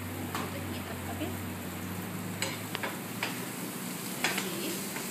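Tiger prawns frying in butter in a hot pan, a steady soft sizzle with occasional stirring clicks and taps from a utensil, close and quiet.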